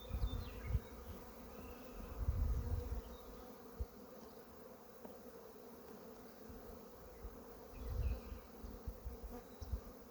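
Honeybees buzz around an open hive during an inspection, a steady faint drone with occasional closer swells and light handling bumps, no talk.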